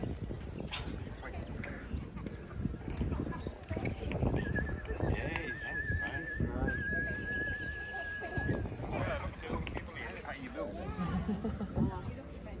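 Holiday Dreams, a thoroughbred racehorse by Exceed and Excel, at a stable at Eagle Farm racecourse, whinnying with a brief shrill neigh and shuffling hoof clops nearby while people talk throughout.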